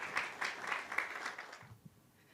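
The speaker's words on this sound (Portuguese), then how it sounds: "vamos recebê-la com os aplausos" An audience claps to welcome a speaker at a public-management award event, a brief burst of scattered applause that quickly thins and fades away within a couple of seconds.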